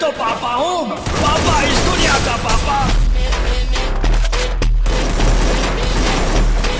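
Rapid gunfire in the video game Free Fire, loud and dense, with bursts of automatic fire over a continuous low rumble; a voice speaks briefly at the start.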